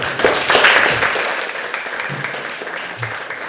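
An audience at a concert in Dublin applauds with dense, steady clapping that swells near the start and then holds at a fairly even, moderately loud level throughout.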